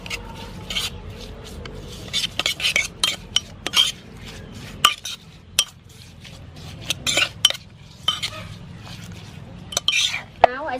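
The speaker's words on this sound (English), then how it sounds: "oyster sauce, chili sauce. Blend it together." Oyster sauce and chili sauce are blended in a dish with irregular clinks and scrapes of a spoon against the dish, close and fairly loud, with soft squishy stirring between the taps.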